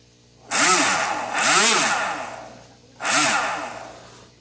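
Electric motors on an RC Firebird DeltaRay plane whine up in three separate bursts, each rising and falling in pitch as differential thrust is shown, close and loud with no talk.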